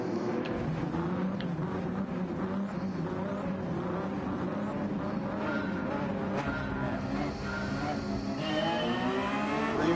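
A Porsche GT3 race car engine in a racing video game revs steadily and loudly throughout, its harmonic drone rising and falling as it accelerates, with a brief higher whine near the end.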